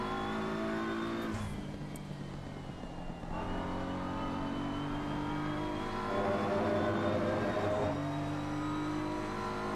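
A BMW M4 race car engine in the Assetto Corsa Competizione racing game, a continuous loud drone with rising and falling revs and gear shifts, heard alone without talk.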